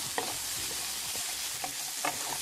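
Diced guanciale fries in a pan, its fat rendering out with a steady soft sizzle and crackle broken by a few sharper pops and the scrape of stirring, close up and alone.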